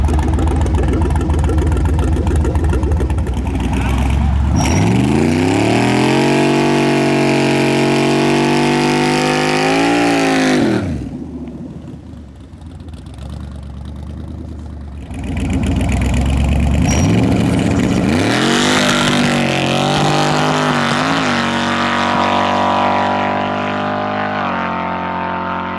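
A big block Chevrolet Nova drag car roaring hard down a street, engine note climbing through rising revs, briefly dropping off, then surging loud again close by.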